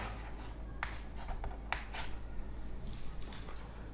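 A marker scratching on a board during a maths lesson on number lines, with short strokes in an irregular rhythm over a low steady hum, fairly close and soft.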